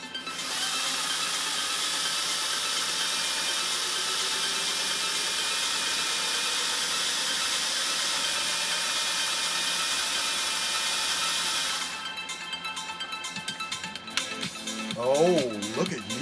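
A 1957 Singer 401A sewing machine stitches at a steady, continuous whir for about twelve seconds, then stops, leaving light handling clicks and a brief voice near the end.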